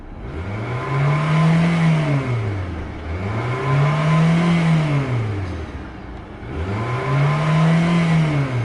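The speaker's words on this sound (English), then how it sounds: "When you rev it up, runs strong, sounds awesome." A 2016 Nissan Sentra engine revs repeatedly, rising to a loud roar and falling back three times in a steady rhythm, close by with no talking.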